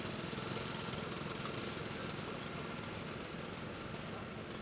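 Small engine of a 1950 Bantam 3000 lawn tractor running at a steady idle, a constant faint droning hum with a light mechanical vibration and no speech.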